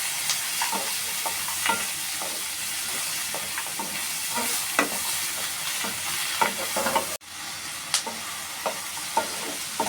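Onion, tomato and cashew nuts stir-fried in a pan sizzle steadily for the whole stretch, with frequent scraping and stirring clatters on top and one brief break near the end.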